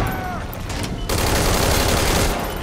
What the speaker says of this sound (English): I'm gonna use the real gun.